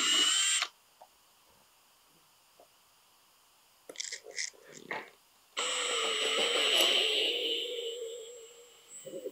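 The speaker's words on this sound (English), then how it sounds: "We've got our drill bit taped here so that we don't go too deep into the plywood" A power drill whirs in two short bursts, then a longer steady grinding run as the bit bores into plywood, fairly close and loud.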